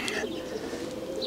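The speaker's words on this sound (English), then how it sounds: "Very nice and strong pigeon" A racing pigeon coos in a low, steady murmur close by, with a few faint chirps from other birds mixed in.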